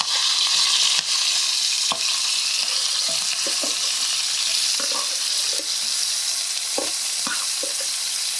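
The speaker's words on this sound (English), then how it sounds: "next you want to cook the vegetables." Vegetables sizzling in a hot pan for Hawaiian fried rice, a steady loud frying hiss throughout with scattered crackles and pops, and a few utensil clinks.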